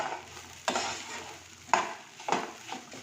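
A fried mixture with crushed black pepper and green chillies being stirred in a pan, spatula scrapes landing about every second over a steady soft sizzle, close and moderately loud, with no talking.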